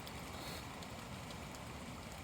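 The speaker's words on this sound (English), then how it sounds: "where it is raining" Rain falls in woodland, a faint, steady hiss of drops pattering on leaves and ground with no breaks, heard alone without voices.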